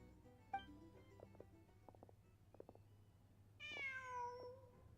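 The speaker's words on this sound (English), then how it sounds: "Just a cat." Video game cat gives a few soft chirping calls, then a longer, clear meow near the end, heard over a low steady hum of background ambience, fairly quiet overall.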